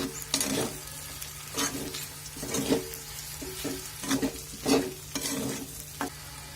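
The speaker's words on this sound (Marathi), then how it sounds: "आपण त्यामध्ये शेंगदाणे घालून घेणार आहोत आणि चवीनुसार मीठ घालून घेणार आहोत आणि छान याला मिक्स करून घ्यायचं आहे आपल्याला" Peanuts with salt being stirred in a pan over medium heat, a series of rhythmic rattling scrapes over a soft continuous sizzle, close and clear.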